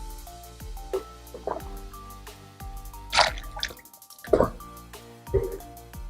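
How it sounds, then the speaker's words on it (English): Water is gargled and swished in the mouth, producing a few separate wet, bubbling, splashy bursts heard up close, with short quiet gaps between them. "Gargle the water."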